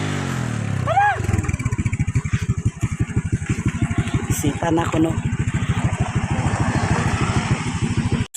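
A motorcycle engine runs steadily at idle with a fast, even train of low firing pulses. A brief rising whine comes at the start, and a short spoken phrase is heard over the engine.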